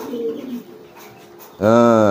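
A giring pigeon coos in a sudden loud, throaty burst near the end, following a stretch of quieter background sound with a person talking during training.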